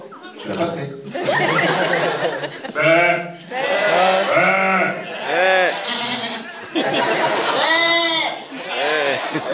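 An audience at a film premiere bleats like goats in unison, loud, wavering, layered voices with bursts of laughter mixed in as the crowd imitates the animals.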